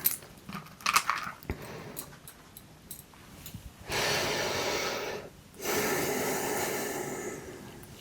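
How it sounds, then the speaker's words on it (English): Slow, deliberate breaths in a quiet, close setting: a few soft, airy exhalations early on, then two long, steady breaths, each lasting over a second and held evenly, with no talking. "So let's close with some breathing."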